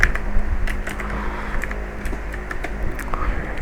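Rapid typing on a computer keyboard, heard as close, dense clatter of keystrokes over a steady low hum, with no voices.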